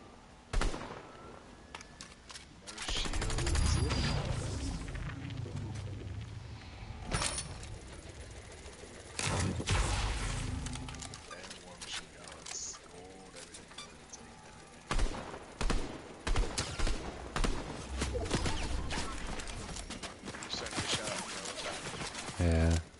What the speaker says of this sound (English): there's a second team shooting us